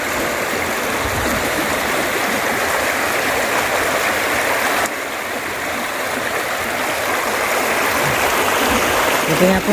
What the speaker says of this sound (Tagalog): Hindi lang po makakatawid sa lakas po ng agos.